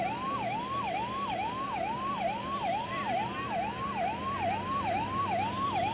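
An ambulance siren wails in a fast, regular up-and-down sweep outside a hospital in Ahmedabad after an Air India plane crash, loud and continuous over low traffic rumble.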